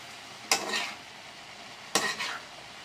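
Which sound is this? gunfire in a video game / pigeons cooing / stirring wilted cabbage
stirring wilted cabbage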